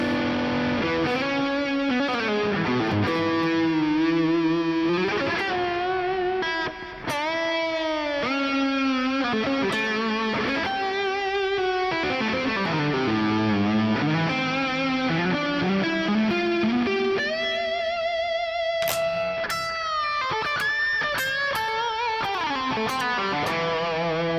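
Ibanez 550 DX electric guitar played through a distortion channel, a continuous sustained run of loud, driven notes and bends with no talking.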